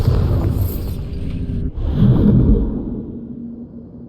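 A Bombarda spell explosion in Hogwarts Legacy bursts with a deep, loud boom after a whooshing build-up, then rumbles and fades into a low tail.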